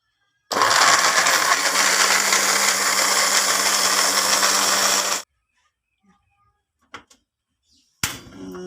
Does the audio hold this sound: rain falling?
no